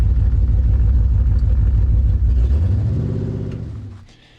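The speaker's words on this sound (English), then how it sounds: "So today I took the car for a little test drive" A woody wagon's engine, which has issues, revs loudly with a deep, steady rumble, then the pitch climbs and the roar fades away toward the end.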